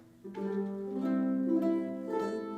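A few ukulele chords in low G tuning strummed and left ringing, warm and deep-voiced, clear and close with no talking.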